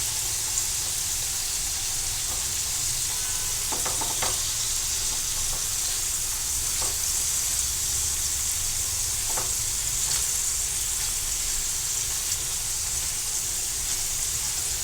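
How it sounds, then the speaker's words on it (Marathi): Paneer shallow-fries in a pan with a steady, loud hiss of hot oil, broken by a few soft clicks and scrapes as the pieces are turned. Nobody speaks. "हे पहा, मी आता याला पलटी करत आहे म्हणजे दोन्ही बाजू शेकल्या पाहिजे त्याच्या."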